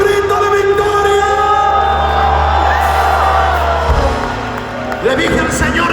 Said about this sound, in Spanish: Alguien tiene que dar un grito de victoria.